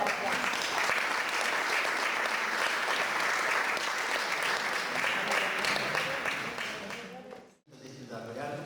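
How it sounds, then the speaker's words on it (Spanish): A studio audience on a literature-themed show claps loudly and steadily, the applause cutting off abruptly near the end as a voice begins speaking. "Pues un aplauso para vosotros"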